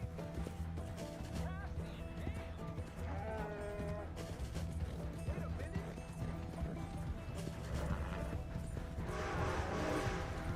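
Horse hooves clip-clop in Red Dead Redemption 2, a steady hoofbeat rhythm set into a dense game mix of music, ambient noise and occasional character talk.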